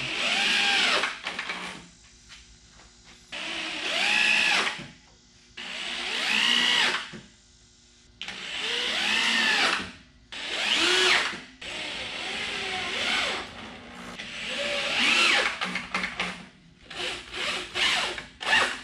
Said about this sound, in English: I'm going to go get a screw gun and some wood screws